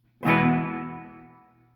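A single electric guitar chord struck loud through a Bugera Vintage 22 tube amp and left to ring out, its warm, slightly gritty tone fading slowly into a roomy analog reverb tail.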